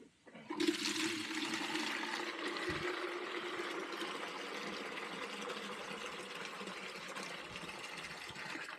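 Tap water runs steadily into a small plastic solo cup for several seconds, a continuous close rushing stream with no talking, while a mosquito treatment is being mixed.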